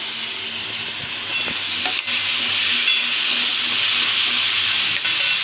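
Chopped tomatoes dropped into a frying pan of sautéed onions and green chillies sizzle steadily and loudly up close, with a few clinks and scrapes of a spoon stirring, and no talking.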